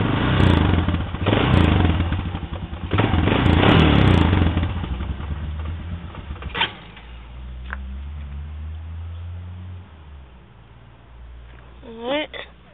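A Honda TRX 250 TM Recon ATV engine runs loud and steady, revving up at first, then settling into a lower, rougher idle with a few knocks and clatters toward the end.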